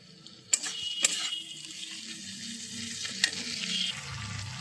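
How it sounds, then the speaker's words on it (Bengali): Ginger, garlic and ground spices frying in a pan on a gas stove give a quiet, steady sizzle, broken by a few sharp clinks of a stirring spoon against the pan. "এবার আমি সব একসঙ্গে ভালো করে ভাজা ভাজা করে নেব, যাতে করে আদা রসুনের গন্ধটা না ছাড়ে"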